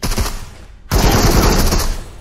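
Loud, close shotgun blasts in a video game, a heavy booming shot followed by another after a brief gap, each with a thick, ringing tail that fills the space.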